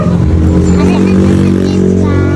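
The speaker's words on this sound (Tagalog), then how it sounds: "Jeepney, modernized jeepney." A modernized jeepney passes close by on a street in the Philippines, its loud, steady engine drone rumbling continuously under faint background chatter.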